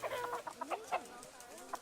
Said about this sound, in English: We added the chickens in this kind of like petting zoo part